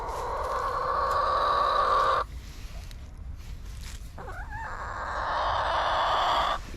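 Chickens in a garden chicken run, scratching at a compost pile, give a short burst of clucking midway through, set against steady outdoor noise.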